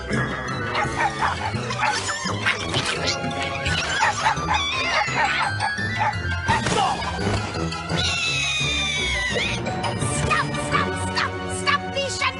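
Cartoon dogs bark and yip in a chaotic, noisy jumble of animal yelps and squeals over music and voices, loud and busy throughout.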